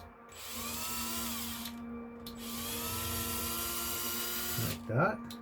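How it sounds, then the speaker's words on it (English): Power drill boring in with a long, bendy drill bit, a steady whining drone held almost throughout at close range, with a short gap near the start and a louder burst near the end. "I'm going to drill in here."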